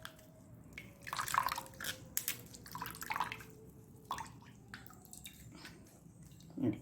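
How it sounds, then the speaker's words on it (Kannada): Hot water poured into ragi dosa batter: quiet, soft splashes and drips in a few short bursts against low background hum, faint and close. "ಇದಕ್ಕೆ ಪುನಃ ಸ್ವಲ್ಪ ಬಿಸಿ ನೀರನ್ನು ಹಾಕ್ಕೊಳ್ತಿದ್ದೇನೆ."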